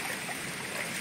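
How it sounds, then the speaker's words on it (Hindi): Heavy rain pours steadily over floodwater that has risen around homes, a dense, even wash of water noise filling the whole moment with no voices. "जोरों की बारिश भी आ रही है।"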